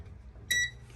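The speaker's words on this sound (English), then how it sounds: "Microwave goes off. This beeped." An RV microwave oven gives a single short electronic beep as it powers back on, clear and close against a low background hum.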